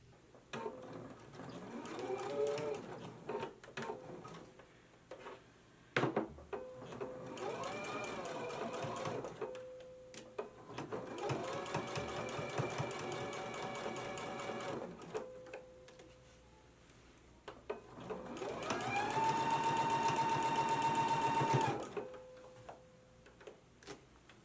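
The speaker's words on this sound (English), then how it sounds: "we can go to the sewing machine and stitch it in place" A sewing machine stitches a waistband facing on a McCall's 7330 jumpsuit in several close, whirring bursts separated by brief pauses, the last run louder and higher-pitched, with faint handling sounds between runs.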